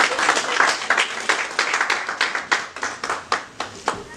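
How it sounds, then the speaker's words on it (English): A church congregation clapping in unison, sharp claps falling in a steady, regular rhythm at a brisk pace, fairly close and loud with no talk over them. "clap for Jesus"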